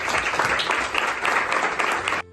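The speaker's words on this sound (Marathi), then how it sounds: "तर आपण आपल्या पाल्यांसाठी ना एकदा सगळ्यांनी टाळ्या वाजवूया" Audience clapping for children at a family day celebration: dense, lively applause from a large group that stops abruptly at the end.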